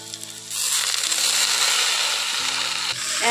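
Greens dropped into a pan of fried onions, a sudden loud burst of frying sizzle that starts after a quiet moment and carries on steadily, close up.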